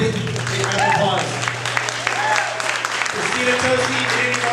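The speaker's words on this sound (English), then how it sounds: "Yeah, please, big round of applause." Applause from an audience after a food panel talk, a thick burst of clapping that is loud and continuous for a few seconds with light crowd murmur underneath.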